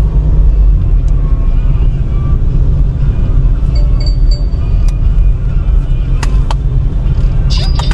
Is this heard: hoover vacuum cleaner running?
no